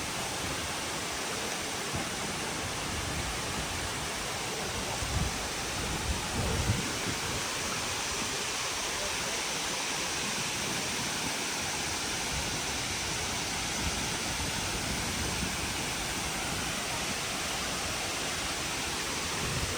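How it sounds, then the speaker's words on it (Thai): A forest waterfall pours steadily, a dense broadband rush of falling water that stays constant and fairly distant throughout, with no voices. "ได้ยินกันเนาะเสียงน้ำตก"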